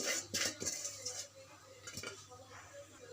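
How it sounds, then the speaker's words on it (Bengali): A spoon stirs an iftar dish in a metal pot, giving quiet scraping clinks and knocks against the pot in a few bursts, with soft background noise between the strokes. "এখন আমি এটা ভালো করে নাড়িয়ে নেব।"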